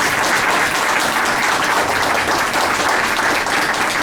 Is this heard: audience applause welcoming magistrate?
yes